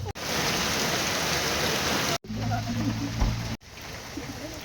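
Heavy rain pours down in Baguio, a dense, steady hiss of water in the open, then pattering nearer on a surface in two shorter bursts, with faint voices underneath.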